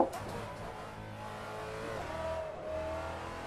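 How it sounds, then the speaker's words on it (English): In a racing video game, a race car engine revs and accelerates on a street time-attack circuit at Detroit's Belle Isle, rising in pitch as it climbs through the gears, steady and close. "Now floor it. Up in fifth gear."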